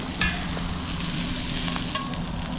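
Meat frying in grease in a pan during camp cooking of pasta outdoors, a steady close crackling sizzle with occasional stirring scrapes and no talking.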